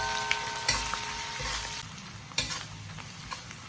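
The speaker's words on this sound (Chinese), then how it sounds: "然后再把葱、姜、小米辣给它下进去炒香。" Scallion, ginger and bird's eye chili sizzle loudly in hot lard in a wok as they are stir-fried, a steady frying hiss broken by occasional scraping stirs.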